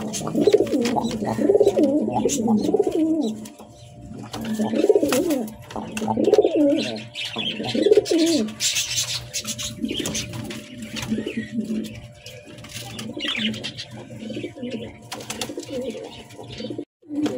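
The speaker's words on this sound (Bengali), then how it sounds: "এখন প্রথমে যে কবুতরটা দেখাচ্ছি এটা হচ্ছে ব্লু বার্ড লাহোরি।" Blue bar Lahori pigeons cooing in soft repeated bursts close by, with a few faint chirps and a steady low hum behind them.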